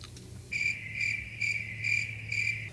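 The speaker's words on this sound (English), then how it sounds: "Crickets." Crickets chirp in a steady pulsed trill, five bright bursts repeating evenly and fairly close, with a low hum underneath and no voices.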